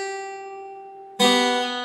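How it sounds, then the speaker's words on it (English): First string of a guitar plucked while fretting a chord, a clear ringing note that slowly fades, followed by a second bright pluck that sustains strongly, close and alone. "you can try playing the first string and it should sound like this."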